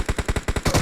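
Automatic gunfire in BGMI, the mobile battle royale game: a rapid burst of about eight evenly spaced, punchy shots, loud and close, with no voices.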